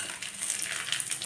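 Chicken marinated in salt, turmeric and yogurt frying in oil in a wok, a steady close hiss and sizzle with no talking.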